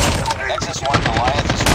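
Rapid automatic fire from a sentry gun in COD Mobile rattles in dense, continuous bursts, loud and close, with chaotic battle noise underneath.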